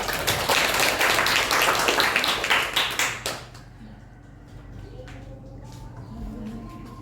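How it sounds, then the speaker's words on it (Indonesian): Classroom applause from a group of students, a dense burst of clapping for about three seconds that fades out, leaving quiet room tone with faint voices. "tepuk tangan untuk Mbak Hovifa."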